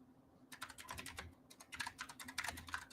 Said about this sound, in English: You guys are just going to hear me type.